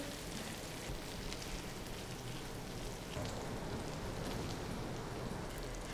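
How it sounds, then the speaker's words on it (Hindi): Kaleji (liver) frying with tomatoes on a hot tawa, a steady, even sizzle and crackle that sounds almost like rain and holds at the same level throughout. "कलेजी को टमाटर के साथ मिक्स करने के बाद हम इसको 1 से 2 मिनट तक भून लेंगे"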